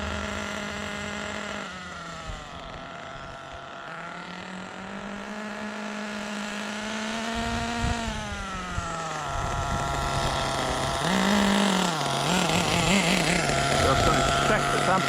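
A nitro-powered HPI Trophy Truggy 4.6 (.28) RC engine screams at high RPM, a loud, continuous buzzing whine that climbs sharply in pitch on several throttle blips.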